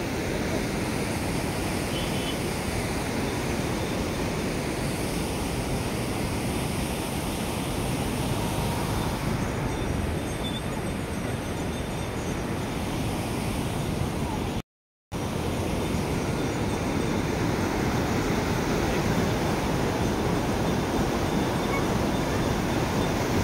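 Heavy rushing water roars steadily and loudly from below, a continuous broadband churn with no pause apart from one brief cut midway, and no voices over it.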